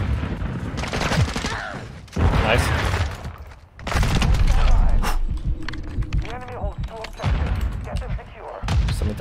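Gunfire from the Modern Warfare 2 beta shooter game, bursts of shots and loud impacts cutting in and out while a player talks over them.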